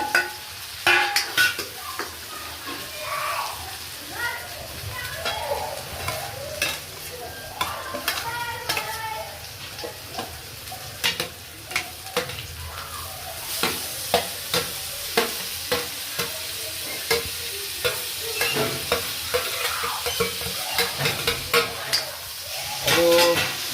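A tempering sizzles loudly in a pan for a Gujarati winter dish as ingredients are added one by one, with bursts of hissing and rhythmic stirring scrapes growing busier toward the end.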